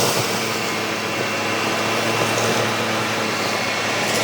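A vacuum cleaner running on its high setting across carpet gives a loud, steady, unbroken roar with a constant motor whine and broadband airflow hiss throughout.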